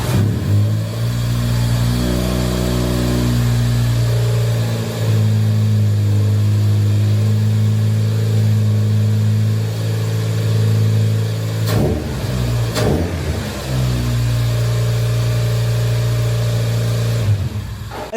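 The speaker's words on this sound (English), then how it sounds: "I then wanted to start up the car just to make sure it hadn't miraculously died over the time of changing the oil" A Toyota Starlet engine, just back from an oil change during a restoration, runs loud and close with a steady mid-pitched drone that rises and falls through several revs, broken by two brief rough dips near the end.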